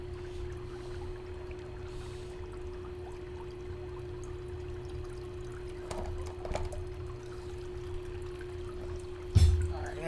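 Water pouring and trickling during a gold prospecting cleanup, a steady low wash running throughout with a louder splash near the end, with no talk.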